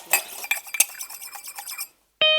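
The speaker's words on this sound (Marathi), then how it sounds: "तुमच्या बायकोला सांगा हळू भांडी घासायला. माझे कान दुखतायत." Metal pots and utensils clink and clatter while dishes are scrubbed in a home kitchen, a busy run of ringing knocks and scrapes that stops short, then another bright metallic ring starts at the very end.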